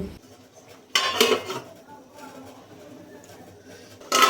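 A lid is set on a cooking pot with a metallic clatter, then a quieter stretch before a second clank near the end.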